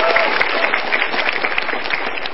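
Audience applause at an Indonesian stand-up comedy show, a dense steady clapping from the crowd that holds at a loud, even level throughout with no voices.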